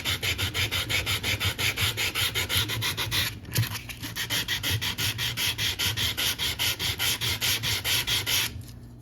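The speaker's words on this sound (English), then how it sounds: "You want to sand it so that white in the background comes through." Rhythmic back-and-forth scraping of sandpaper on paper card, quick even strokes repeated dozens of times, close up, with a brief pause midway.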